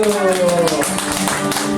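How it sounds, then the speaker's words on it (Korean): A group of students claps together during a high school Sunday worship service. The brisk, steady clapping runs the whole short moment underneath a voice that is talking. "박수."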